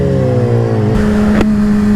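A Suzuki GSX-R 750 motorcycle passing close by, a loud sustained engine drone whose pitch drops sharply as it goes past, steady and dominant throughout.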